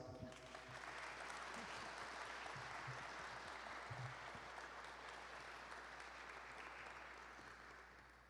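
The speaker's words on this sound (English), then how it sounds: "Let's give Marcia a huge round of applause." An audience at a career-week panel event applauds speaker Marcia, with sustained, even clapping from a sizeable crowd that fades slightly at the end, heard at moderate distance over a low hum.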